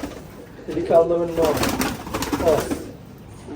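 Giribaz high-flying pigeons coo nearby in soft, throaty rolling phrases, two or three bursts close together against quiet background noise.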